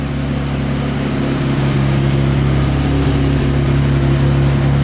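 A rare car, parked for years and just revived, idles with a steady, low, droning engine rumble close by, even and unbroken throughout, with no voices over it.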